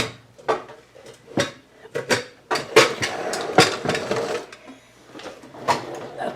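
A pan cover is pulled from a crowded cover rack in a home kitchen, with irregular metallic clanks, scrapes and knocks of cookware, fairly faint and close.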